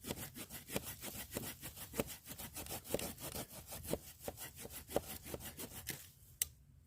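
Silky folding hand saw cutting through a piece of hard wood, a steady run of rhythmic rasping push-pull strokes, close and fairly loud, ending with a short pause and a final stroke.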